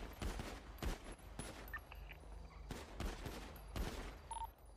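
Gunfire in a GTA roleplay video game, several sharp bursts of rapid shots spaced through a short stretch, loud and close with faint game sounds between volleys.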